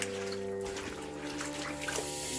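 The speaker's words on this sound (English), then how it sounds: "One of you can unwrap while the other one starts to kind of wash them in the sink." Vegetables are washed in water in a kitchen sink, with steady running and splashing water, soft sloshing and faint clunks close by.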